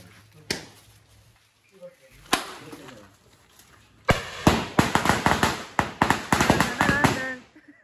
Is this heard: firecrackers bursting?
yes